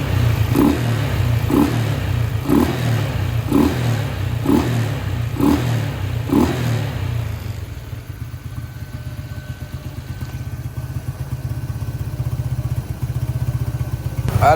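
A Yamaha LC V8 motorcycle engine fires up and revs in a string of regular, evenly spaced throttle blips, then settles into a fast, rough, clattering idle, close and loud, with no talking.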